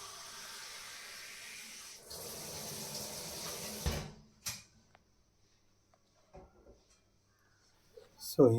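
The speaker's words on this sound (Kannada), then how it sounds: "ತೊಳೆದ್ಬಿಟ್ಟು ಅದಕ್ಕೆ ಬೇಕಾಗಿರೋಷ್ಟು ಅದು ಬೇಕಾಗಿರೋಷ್ಟು ನೀರನ್ನ ತುಂಬಿಸಿ" Tap water runs into a pot of washed rice in a home kitchen, a steady hiss of filling for about four seconds that cuts off, followed by faint clinks and handling noises, with a brief voice near the end.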